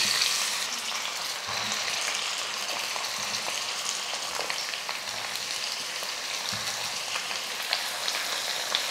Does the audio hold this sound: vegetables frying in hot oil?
yes